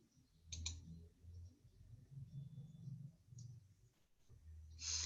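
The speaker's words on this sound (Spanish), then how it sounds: "Voy a hacer clic ahí." A computer mouse clicks faintly during an online training session, a few sharp isolated clicks spread over several seconds against a low background hum, with no one speaking.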